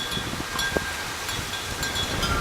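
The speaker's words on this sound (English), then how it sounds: "It's super windy here today." Gusty wind buffets the microphone outdoors on a very windy day, a continuous rough rumble with faint rustling and no voices.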